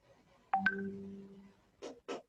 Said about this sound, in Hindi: कुछ रिंगटोन टाइप का साउंड था